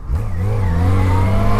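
A Yamaha XJ6 naked motorcycle running without an exhaust, its engine revving loudly and close with a raw, steady drone that climbs in pitch as it revs, heard alone with no voices.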